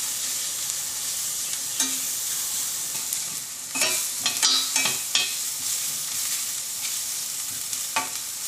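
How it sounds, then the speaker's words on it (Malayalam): Onions sauté in a pan for rajma masala with a steady, fairly loud sizzle, punctuated by scattered spatula scrapes and clatters. "ഈ സവാള ചെറുതായിട്ടൊന്ന് കളർ മാറുന്നത് വരെ നമുക്കൊന്ന് വഴറ്റാം."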